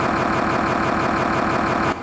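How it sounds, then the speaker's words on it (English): A car engine idles with a steady, rhythmic rumble, loud and close, with no voices. "the engine just started."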